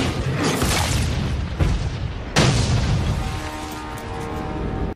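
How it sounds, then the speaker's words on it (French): Grenade launcher blasts from the creature film Lake Placid 2: a dense roaring boom with a second sharp detonation about midway, loud and close, fading into a lingering rumble with a sustained tonal hum. "Mais Riley a toujours le lance-grenade."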